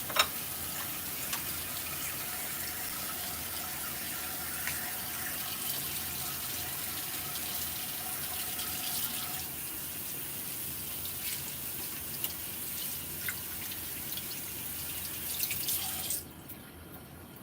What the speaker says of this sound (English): you need to wash your hands with water and soap